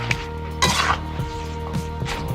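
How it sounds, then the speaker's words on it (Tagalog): Sweet potato tops cooked with sardines are stirred in a pan, with repeated metal scrapes and clinks of a utensil against the pan over a steady low sizzle, close and fairly loud. "Ngayon po ay dahan-dahan ko na pong ilalagay itong talbos ng kamote o dahon ng kamote. Tapos halu-haluin lang"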